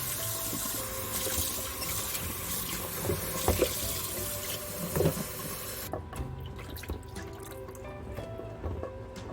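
Cooked pork is rinsed under running water in a kitchen sink, with a steady splashing flow, drips and soft handling knocks; partway through the water stream cuts off, leaving quieter drips and clatter.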